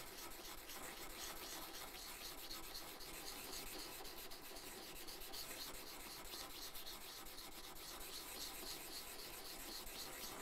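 A wooden spokeshave blade rubbed back and forth on a coarse grit abrasive gives a steady, continuous rasping scrape, close and even, with no talk over it.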